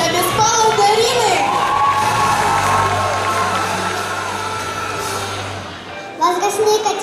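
Audience at a children's beauty pageant, Mini Miss Chernihiv 2015, cheering and shouting with children's voices, loud and sustained for several seconds before fading, with a brief burst near the end.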